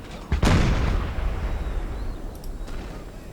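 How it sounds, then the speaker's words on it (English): A single booming volley from dragoons in Empire Total War, one sharp blast followed by a long rumbling decay, with faint distant pops trailing off afterward. "they're dragoons. They're firing."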